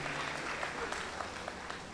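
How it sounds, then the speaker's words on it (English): Applause from the audience at a boys' high school upper sixth form leaving ceremony, a dense, moderately distant round of clapping that continues evenly with some crowd murmur beneath. "Let's put our hands together one more time for these gentlemen."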